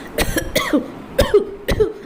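A woman coughs several times in quick, sharp bursts after choking on food, harsh and close, with short pauses between.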